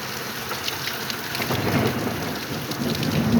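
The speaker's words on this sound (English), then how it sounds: "you guys can hear that thunderstorm." Thunderstorm at a house with heavy rain pouring steadily on surfaces, a dense constant hiss with low thunder rumbling underneath, swelling slightly toward the end.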